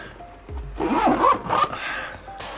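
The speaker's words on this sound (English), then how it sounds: "the zippers are a bit weaker here on the sides" A zipper is pulled open on a Lowepro Protactic 450 BP AW II camera backpack, giving a close, scratchy rasp of about a second that tails off into quieter rustling, with no talking.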